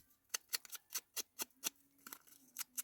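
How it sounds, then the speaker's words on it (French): Pinking shears snip through paper while a tissue box is being decorated: about a dozen quiet, crisp cutting clicks in a steady, quick rhythm, close up and alone. "mais avec les ciseaux cranteurs, hein, c'est pas mal."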